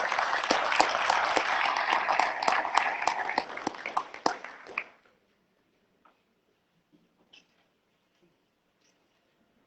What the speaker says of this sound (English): if I can just have a round of applause for every staff member right now